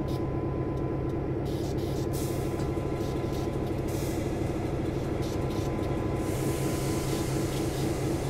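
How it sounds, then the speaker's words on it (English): Automatic air brake on a GP9RM diesel locomotive in Train Sim World 2: a steady hiss of air with a continuous low rumble of the idling locomotive underneath, no voices. "The automatic brake is the main system used for slowing down the train."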